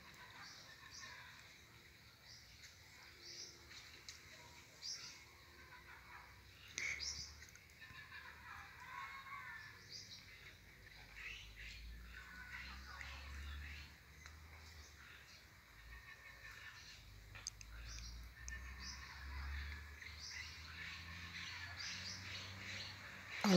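Macaws calling in a tropical tree near toucans, scattered harsh squawks and chirps over a faint low background rumble, distant and quiet, with brief soft human noises.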